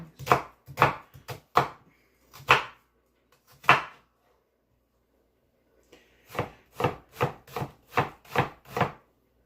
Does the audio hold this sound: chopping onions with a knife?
yes